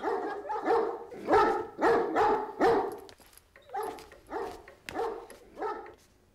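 Several dogs bark in agitated bursts, loud and nearby, with a brief pause midway before the barking resumes.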